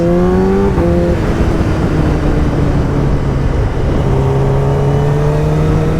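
Loud, close Kawasaki ZX10R SE superbike engine revving hard in an underpass, with pitch sweeping up and dropping between throttle blips and shifts, echoing off the walls.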